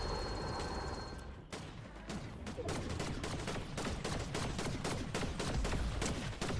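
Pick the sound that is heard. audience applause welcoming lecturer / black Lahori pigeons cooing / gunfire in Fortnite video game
gunfire in Fortnite video game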